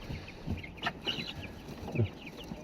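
Chickens clucking in a home coop, large birds about two weeks in the keeper's care, with a few soft scattered clucks and fowl calls at moderate distance over a faint background.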